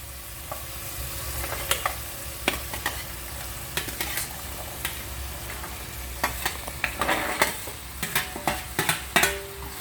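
Chopped vegetables for a vegetable biryani go into a pan with tomatoes fried soft, then sizzle softly while a spoon stirs them, giving scattered sharp scrapes and clinks that thicken toward the end.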